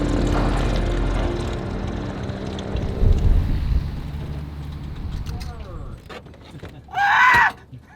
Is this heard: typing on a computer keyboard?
no